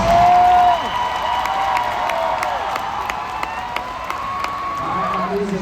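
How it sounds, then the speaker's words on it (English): A circus audience in Nashville cheers and applauds, with scattered claps, whoops and children's shouts spread across a large crowd, loudest at the start and then holding at a steady level. "Give him a round of applause."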